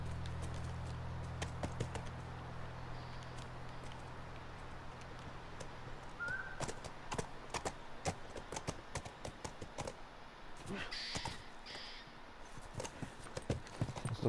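In the video game The Last of Us Remastered, hooves clip-clop steadily on hard ground as a horse walks, with a brief whinny partway through and scattered clicks and taps.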